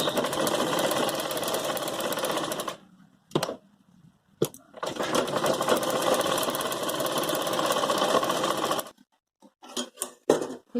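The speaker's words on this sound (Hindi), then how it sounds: "अब यहाँ से मैं इधर की तरफ सिलाई लगाऊंगी" Sewing machine stitching a Patiala salwar, running in two long continuous bursts of rapid mechanical whirring with brief pauses and short starts between, close and loud, with no talking.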